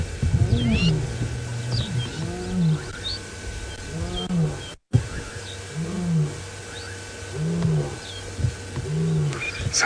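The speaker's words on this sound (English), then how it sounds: "Oh, the lion's roaring." A male lion roars during a sunrise safari drive, a series of deep, rhythmic grunting roars repeating at moderate distance, with birds calling over steady background noise.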